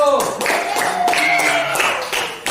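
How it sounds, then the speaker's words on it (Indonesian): A group claps together in a classroom after a student group's presentation, a steady patter of hands mixed with some tonal voices or sounds, lasting a few seconds. "tepuk tangan dulu untuk kelompok 1"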